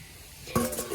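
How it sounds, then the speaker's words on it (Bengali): Potatoes frying in a pan in a home kitchen: a quiet hiss, then a sudden utensil clank followed by brief close sizzling and stirring noise. "এই যে এদিকে আলুগুলো ভেজে নিচ্ছি"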